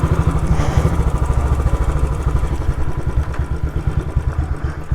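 A Royal Enfield motorcycle chugs steadily at low speed along a dead-end lane, its single-cylinder thump pulsing rapidly and loudly close to the rider throughout.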